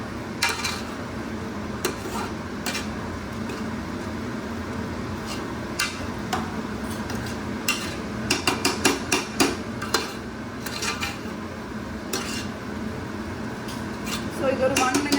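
A spoon gently stirs egg biryani rice and masala in a pot, giving repeated soft scrapes and light clinks against the metal, spaced through the stretch, under a person talking.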